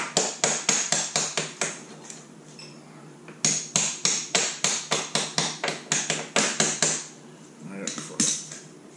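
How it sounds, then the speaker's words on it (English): Sharp metallic hammer blows knocking a stuck axle out of a 2005 Arctic Cat front differential, quick bursts of repeated strikes, close and loud, with short pauses between series. "Grab my hammer. My little hammer."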